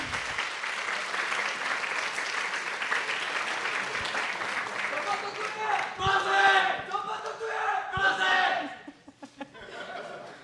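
A large audience at a business plan presentation final claps steadily, with cheers and whoops rising midway before the clapping thins out and fades near the end.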